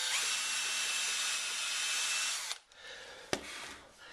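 A thin drill bit bores a pilot hole in wood, a steady loud whine running for about two and a half seconds before stopping, followed by a brief knock and quieter handling noise.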